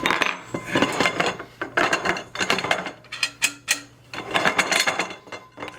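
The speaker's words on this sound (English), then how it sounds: "So I can unbolt this bolt." Metallic clinks and scraping rattles from a bolt being worked loose on a folding work table, close up in irregular bursts with brief pauses between.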